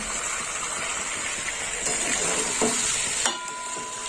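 Green peas being sautéed in a wok give off a steady close sizzle and hiss, broken by a few scrapes and clinks of stirring, with no talk.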